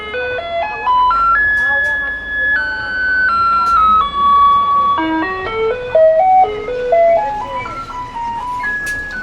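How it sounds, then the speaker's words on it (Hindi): A garbage truck arrives in a Taiwanese village playing a loud, tinkling electronic melody of sustained tonal notes that keeps going without a break, with a vehicle rumble beneath and some faint background sounds. "आई थिंक अब वो कचरे वाली गाड़ी भी आने लग गई है।"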